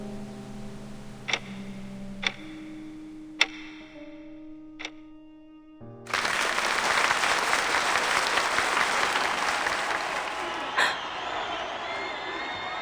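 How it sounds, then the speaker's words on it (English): Applause from a crowd in a Reverse: 1999 story cutscene, bursting in loud and sustained after a few sharp ticks over a low hum, then continuing as a steady dense clatter of clapping. "This applause isn't for me."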